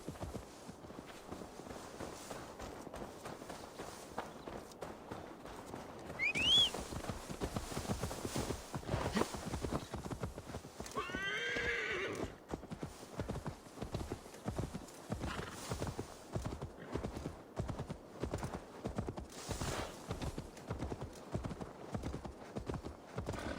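Hooves clip-clop steadily in Assassin's Creed Valhalla as a horse walks along, its footfalls even and close. A short whinny and a few brief game sounds break in, and the horse keeps walking without talk.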